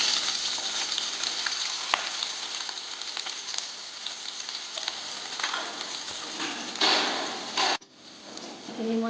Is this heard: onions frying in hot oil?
yes